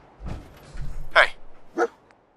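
The dog Dogmeat in the video game Fallout 4 gives two short, sharp barks close by, separated by about half a second, after a man's brief spoken remark.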